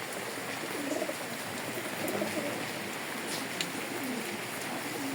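Pigeons coo softly in a loft, low repeated throaty calls at a moderate distance over a steady background hiss, with no one talking.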